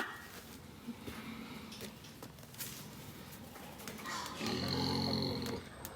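Pigs on a farm, likely in a pen during loading out for sale, with low grunting and animal noises throughout and a louder, denser burst of squeals and grunts near the end; no speech.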